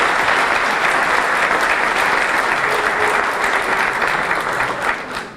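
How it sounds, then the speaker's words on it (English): Steady, dense applause from a large audience at a Greek diaspora gathering in New York, loud and continuous throughout, tapering slightly at the very end. "Please give her a round of applause."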